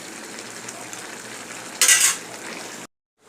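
Pui shak (Malabar spinach) chorchori cooking in a pan with water releasing from the greens: a steady, soft bubbling sizzle, a brief louder scrape of stirring near the end, then a sudden cut to silence.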